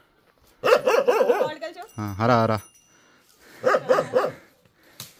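A dog barks indoors at home in two short clusters of loud, rough barks, with a person talking briefly between them.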